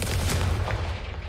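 A Confringo blasting spell detonates in Hogwarts Legacy, a dense, rumbling boom with a heavy low-end roar that holds steady for just over a second, with no talking over it.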